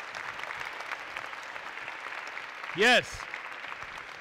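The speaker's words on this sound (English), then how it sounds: "So how about a big round of applause for them working hard backstage" An audience at a 2017 festival show applauds at a moderate distance, a soft, steady patter of clapping, with a brief loud voice briefly cutting in near the end.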